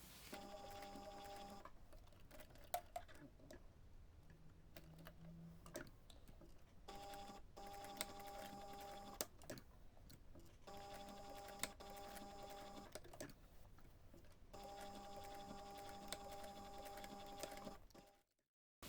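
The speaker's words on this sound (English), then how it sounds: "I'm going to take this to the machine and stitch that using" A sewing machine stitches contrasting thread on a small fabric reindeer pouch, running in four quiet, even bursts of rapid mechanical clatter separated by pauses.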